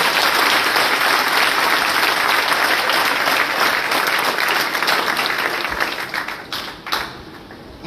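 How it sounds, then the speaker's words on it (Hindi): Loud, close applause fills a coaching centre as a guest, Mahant Shukrai Nath, is welcomed; sustained crowd clapping holds strong for about six seconds, then tapers into scattered final claps. "जोरदार तालियों से स्वागत करें।"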